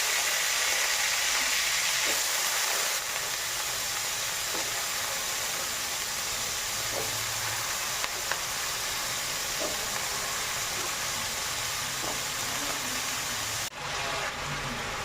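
Food frying on a home kitchen stove, a steady broadband sizzle running throughout with faint clinks and stirring taps, close and continuous without talk.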